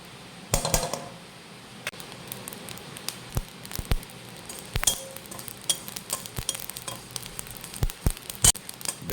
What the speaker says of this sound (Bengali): দেখুন আমার ভাজা হয়ে গেছে